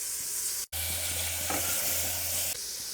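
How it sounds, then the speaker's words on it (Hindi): Beef pieces for degi balti gosht sear in a hot pot, giving a steady loud sizzle and crackle with a brief stir partway through, no talking over the frying. "गोश्त को हम 3 से 4 मिनट भून लेंगे"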